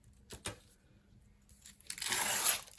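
Glassine paper tears in a few short rips, the longest a loud sustained rasp near the end, close by with no talk.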